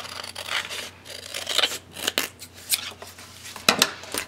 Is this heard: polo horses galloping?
no